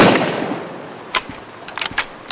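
Gunfire and spent shell casings dropping in the video game Road to Vostok: a loud opening blast decaying into a tail, then a few scattered sharp shots and small tinkling casing clicks near the end, with no talk.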